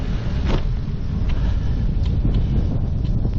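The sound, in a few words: strong wind while cycling uphill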